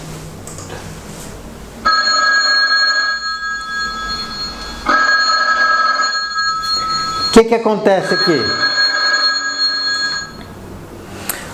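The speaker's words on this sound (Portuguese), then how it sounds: "O telefone tocou." An electronic telephone ring chirps in repeated bursts, loud and close, with a falling warbling tone partway through and a voice speaking briefly over it.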